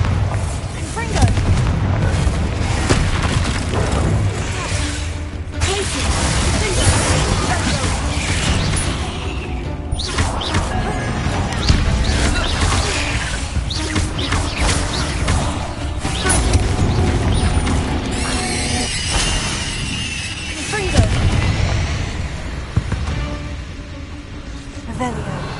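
Bombarda and Confringo spell explosions in the video game Hogwarts Legacy, a dense run of booming blasts, crashes and crackling debris layered loudly and continuously, with a character speaking over the mayhem.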